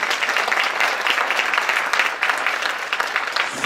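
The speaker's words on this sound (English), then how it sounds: "We want to give them a round of applause." Audience applauding at a Haitian Heritage Month celebration in Miramar, Florida, a dense, steady wash of many hands clapping that carries at an even level throughout with no break.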